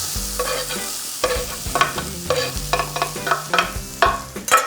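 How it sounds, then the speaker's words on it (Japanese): Finely chopped onion frying in a frying pan for a Japanese-style hamburger steak, a loud near sizzle cut by a quick series of rhythmic scraping stirs, with no one speaking. "ちょっと色がつくまでじっくり炒めていきます"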